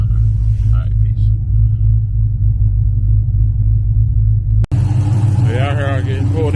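A Cadillac V at a muffler shop gives off a deep, steady low exhaust rumble close by, with people talking over it in the last couple of seconds.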